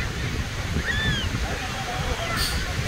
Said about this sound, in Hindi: ये है कोलवा बीच की लहरें